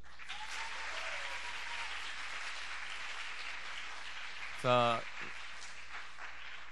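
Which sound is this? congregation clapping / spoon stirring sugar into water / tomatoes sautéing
congregation clapping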